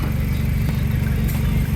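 A car engine runs steadily during a private-sale inspection of a used car, a constant low rumble heard close and alone throughout.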